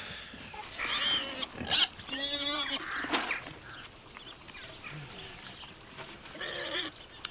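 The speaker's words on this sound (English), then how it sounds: "I'm going to miss them pigs." Farm pigs grunt and squeal in loud, nasal bursts, joined by other livestock calls. The cries come in clusters with quieter gaps between them.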